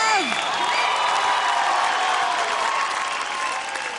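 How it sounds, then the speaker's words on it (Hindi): Dance show studio audience applauding a couple's performance, dense loud clapping and cheering throughout, with a voice calling out over it at the start. "जोरदार तालियां for रागिनी और नीरव।"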